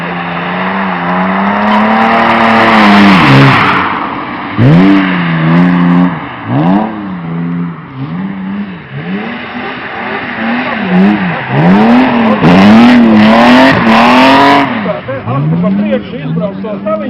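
Rally cars race past at a 2014 event in Ļovāni, one after another, with sharp rising and falling engine pitch, gear changes and occasional tire scrabble. Spectators chatter and call out close by throughout.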